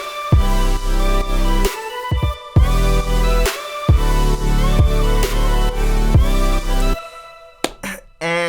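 A remade electronic dance drop pounds along with heavy bass and chopped vocal-style synth leads in punchy, stop-start bursts. It ends with a brief glitchy tail. Loud and full, with no speech.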